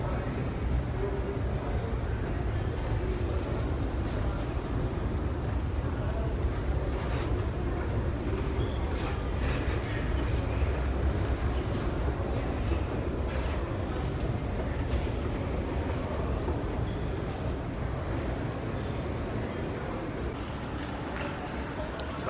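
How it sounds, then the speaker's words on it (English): Metro train rumbling through São Bento station in São Paulo, a steady low roar with rattling carriage noise that stays loud and continuous throughout, no clear voices standing out. "So I'm in the metro now"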